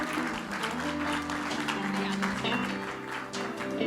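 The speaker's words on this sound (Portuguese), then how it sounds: "Vamos aplaudir ao Senhor por estas vidas, irmão?" A church congregation claps together in praise during a worship service, rhythmic applause with a sustained musical tone underneath and some voices mixed in, continuing steadily throughout.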